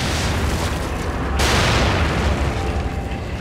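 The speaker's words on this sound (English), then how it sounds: "I'm just gonna throw grenades at them." Grenades detonate in The Evil Within video game, a heavy booming blast rolling over a dense rumbling backdrop, loud and close with no talk.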